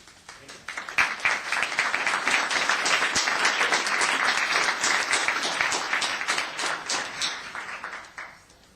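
An audience at a town council meeting breaks into applause: a dense patter of many hands that swells quickly, holds for several seconds and then thins out, fairly close, with no speech over it.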